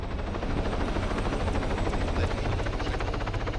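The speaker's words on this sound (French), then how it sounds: "je vais prendre un hélico pour" Helicopter in the military video game ArmA, a steady loud rotor thrum with rhythmic blade chop, constant and close with no talking.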